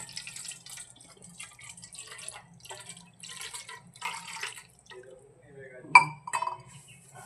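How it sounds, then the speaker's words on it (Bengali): Water is poured over a small idol during a home puja bath, making faint splashes and drips with one bright clink of a vessel, while a voice talks intermittently throughout. "আমি এমনি আমি জল দিয়ে স্নান করাচ্ছি গপুকে"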